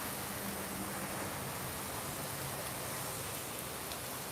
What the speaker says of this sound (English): This guy's riding in the rain.